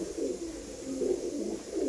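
Pigeons in a breeding loft give soft, repeated throaty coos in a gentle rolling rhythm, close by and alone.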